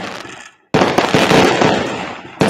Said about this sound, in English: I'm just going to put some fireworks.